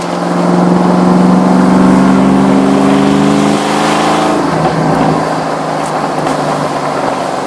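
Car engine running rich, a loud close rumbling idle that rises and then drops away, rough and uneven, with a few sharp backfire pops near the end.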